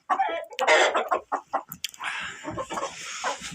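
Chickens clucking and squawking in a coop, a flurry of close, loud calls at the start giving way to quieter scattered clucks and rustling against a steady background hum.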